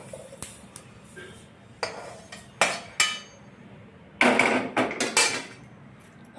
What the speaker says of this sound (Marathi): तीळ भांड्यात काढत आहोत